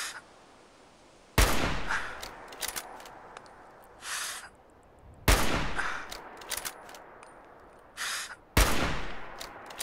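Three loud, sharp sniper rifle shots ring out in Fallout 4, spaced about four seconds apart, each trailing into a short echo, with quieter in-game thuds and bursts between them.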